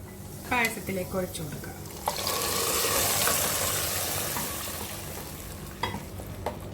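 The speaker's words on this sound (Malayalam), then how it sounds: "അതിലേക്കൊരു 2 ടേബിൾ സ്പൂണ് ഉണക്കമുന്തിരി ചേർത്തിട്ട് മൂപ്പിച്ചിട്ട് നമുക്ക് പായസത്തിലേക്ക് ഒഴിച്ചു കൊടുക്കാം." Raisins and cashews roasting in a pan for payasam, giving a rising sizzle and frying hiss, with stirring scrapes and a few clinks of a spoon against the pan, heard close in a kitchen.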